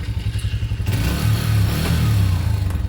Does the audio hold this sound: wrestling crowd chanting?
no